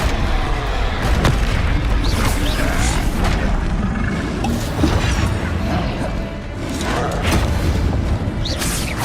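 Confringo fire spells burst in a Hogwarts Legacy duel, booming explosions and crashing impacts layered over continuous game effects and talk, loud and close throughout.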